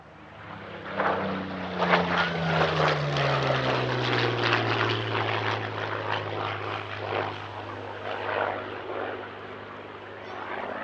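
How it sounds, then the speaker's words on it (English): A 1943 Spitfire in Dutch colours, flown by the Royal Netherlands Air Force historic flight, passes at an air show, its piston engine droning and shifting pitch as it goes by, moderately distant and steady throughout. "it's the only airworthy Spitfire in Dutch colours"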